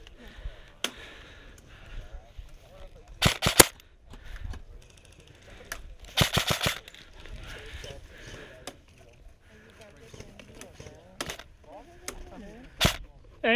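Airsoft guns fire during a Futureball game, sharp snapping shots coming singly and in quick bursts, some near and some farther off, with players talking between the volleys.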